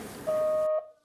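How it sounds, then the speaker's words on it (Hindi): A phone gives a single steady electronic tone lasting about half a second, loud and close, then cuts off to near silence. "Like your ringtone, that's also weird, please change it."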